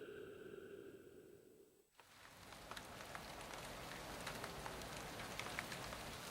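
Steady rain falls on a campsite at night during a star party, a dense hiss of drops with scattered sharper patters, starting abruptly after a quieter opening and continuing unbroken, close and moderately loud with no voices.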